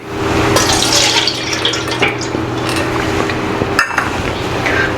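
Soaked rice being rinsed in water for chicken dum biryani, a steady splashing and running-water wash with occasional sharper sloshes, close and continuous with no talking.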